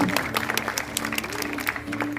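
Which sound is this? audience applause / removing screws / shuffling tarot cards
audience applause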